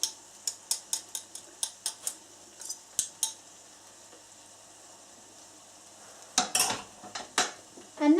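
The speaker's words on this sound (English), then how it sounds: "I will now use a knife to scrape the garlic into the stir fry." A knife scrapes garlic off a board into a stir fry, heard as a run of evenly spaced, crisp taps and scrapes, then a quiet stretch, then louder rustling scrapes near the end, all close by with no talking.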